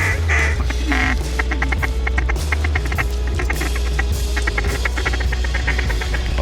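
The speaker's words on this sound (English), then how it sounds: "Two more ducks." Ducks quacking on a duck hunt, with rapid rhythmic bursts of quacks repeating over several seconds against a steady low hum, close and clear.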